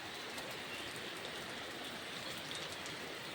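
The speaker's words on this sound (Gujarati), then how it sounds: "વરસાદ તો એવો આવે છે એવો આવે છે" Heavy monsoon rain pours steadily on farmland, a dense continuous hiss with pattering drops, loud and close, no voices.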